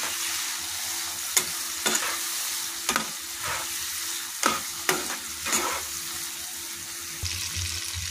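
A pan of girmit mixture sizzles steadily while a spoon scrapes and stirs it, giving a string of sharp clinks over the constant frying hiss, close by and without speech.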